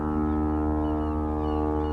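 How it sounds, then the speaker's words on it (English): A ship's foghorn blasts in winter fog in Venice, one deep, steady, continuous tone that holds loud and unbroken for about two seconds. "Foghorn blasting made my heart race a little bit."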